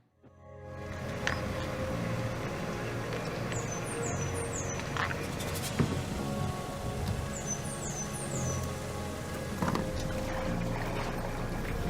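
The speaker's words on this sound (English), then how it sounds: "So I'm here debuting the Old Town Autopilot 136. It's got the Minn Kota motor up front and spot lock." An Old Town Autopilot 136 kayak with a Minn Kota bow motor sits out on open water, with a continuous wash of lapping water and splashing, scattered faint bird chirps and no voices.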